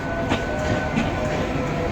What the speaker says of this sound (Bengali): কোথা থেকে ট্রেন আসলো?